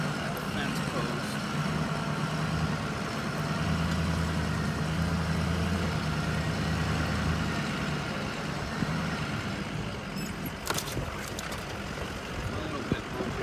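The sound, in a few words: truck engine idling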